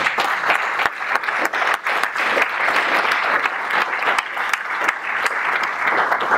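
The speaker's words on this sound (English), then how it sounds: "Give them a big round of applause again." Audience applause at a city council candidate forum in a banquet hall, a dense, steady clapping from a large crowd that continues loudly for several seconds with no speech over it.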